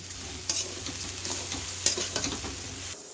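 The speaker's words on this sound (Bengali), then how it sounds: "এখন আমি চিনি দিয়ে দিচ্ছি স্বাদ মতো যেহেতু একটু মিষ্টি খাবো তাই একটু মিষ্টি দেব দিয়ে ভালো করে ভেজে নিচ্ছি" Rice and sugar fry in a pan while being stirred, giving a steady, close sizzle broken by several sharper scraping strokes of the spoon.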